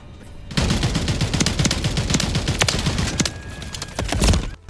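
Dense, continuous gunfire from a Call of Duty game, many overlapping shots rattling loudly for several seconds with a sharper burst near the end.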